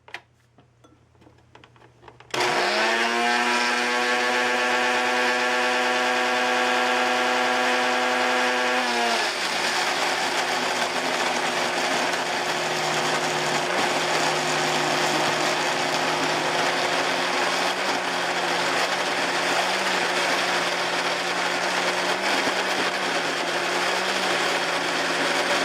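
A kitchen machine blends cocoa, milk, butter and sugar into crumbs for cookie butter. After a short quiet moment its motor starts with a loud, whining hum that holds steady, then drops to a rougher, lower drone as the load changes.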